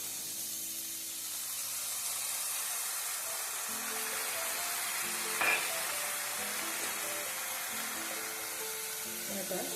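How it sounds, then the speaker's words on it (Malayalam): Coconut milk mixed with coconut oil poured into a pan of prawns on low flame for paal konju, making a soft continuous sizzle and hiss with a brief splash midway, fairly quiet. "ഇനി ഇതിലേക്ക് നമുക്ക് തയ്യാറാക്കി വെച്ചിരിക്കുന്ന തേങ്ങാപ്പാൽ, 1-ാം പാല് വെളിച്ചെണ്ണ ഒഴിച്ച് മിക്സ് ചെയ്ത് വെച്ചിരിക്കുന്നത് നമുക്ക് 2 പ്രാവശ്യമായിട്ട് ഒഴിച്ചു കൊടുക്കാം."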